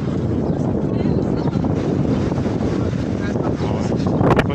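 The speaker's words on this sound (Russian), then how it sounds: "Сильный ветер." Strong wind buffets the microphone in a constant loud roar, gusting unevenly throughout without a break.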